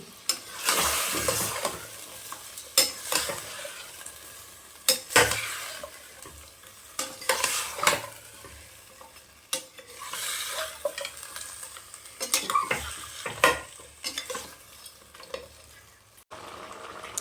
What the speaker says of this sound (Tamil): நம்ம இந்த தலைக்கறி சேர்த்துக்கலாம் நல்லா பரட்டி விடுங்க